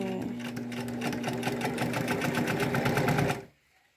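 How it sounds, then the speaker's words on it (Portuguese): A Singer sewing machine stitches fabric for bedding, a fast, steady mechanical whirring and clattering that runs for over three seconds and then stops abruptly, leaving near silence. "quem está costurando é outra senhora de idade. Está costurando nela."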